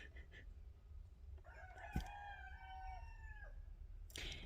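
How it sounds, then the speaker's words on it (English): A rooster crows once in the background, a drawn-out cock-a-doodle-doo that's faint and somewhat distant over low ambient noise. "That's one of my roosters, if you can hear him in the background."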